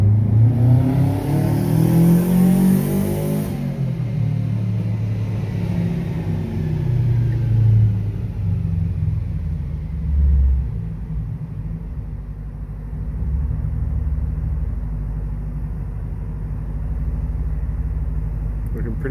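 A turbocharged Subaru Legacy revs hard on a dyno, engine sweeping up to high rpm before backing off into a low rumbling idle, with people talking over it.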